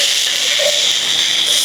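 Onions frying in a pan with a pinch of salt for a bitter gourd curry give off a loud, steady, close sizzle that holds unbroken throughout, with no voices.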